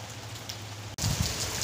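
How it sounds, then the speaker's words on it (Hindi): Heavy rain pours steadily on a rainy village morning, a dense close hiss of drops that swells louder after a brief cut partway through. "तो बारिश आ रही है बहुत तेज़।"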